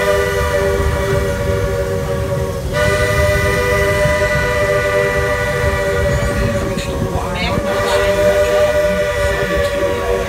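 Walt Disney World Railroad train rolling past with a loud sustained multi-tone horn or whistle sounding over the rumble of the cars, close and continuous, with crowd noise in the background.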